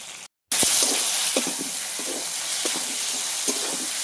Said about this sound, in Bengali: আদা রসুনের কাঁচা গন্ধ যাওয়া পর্যন্ত ভালো করে ভেজে নেব